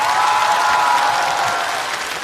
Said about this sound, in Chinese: 再次把掌声献给所有的观众以及漫才兄弟